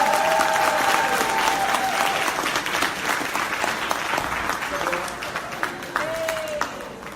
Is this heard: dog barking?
no